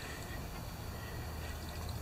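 Gasoline streams from a leaking fuel tank flange on a 1968 Homelite XP1020 chainsaw, a faint, steady liquid trickle and splash with no pauses.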